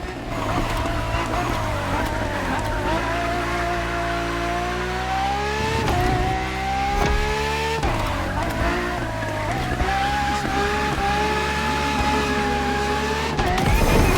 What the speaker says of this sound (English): you'll be driving the FXXK.